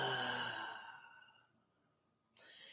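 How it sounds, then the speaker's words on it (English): A long, deep breath drawn in softly and close, fading away, followed by a short quiet stir of air near the end. "So take in a deep breath."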